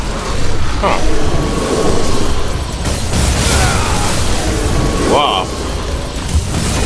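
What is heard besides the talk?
explosions in the video game Devil May Cry 5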